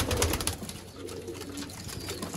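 Pigeons of the choohay breed coo softly nearby, a low repeated burbling over faint background noise.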